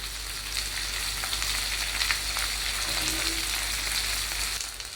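Bilimbi pickle mixture with tamarind fries in a pan while being stirred, giving a constant, even hiss of sizzling with faint scraping throughout and no voices.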